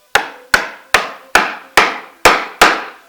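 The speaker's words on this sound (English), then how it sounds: "I'm going to keep working down, bringing the chisel closer to the ends of the mortise" A mallet drives a chisel into wood to cut a mortise in traditional 19th-century carpentry. Seven sharp knocks come at an even pace, close and loud, with no voices.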